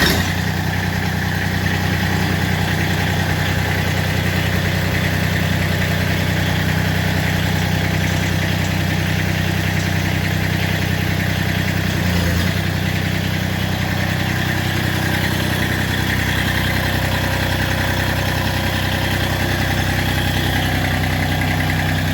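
A Massey Ferguson GC1723EB compact diesel tractor engine running steadily at idle on a test run after a third-function install, a loud continuous low mechanical drone with constant vibration and no voices.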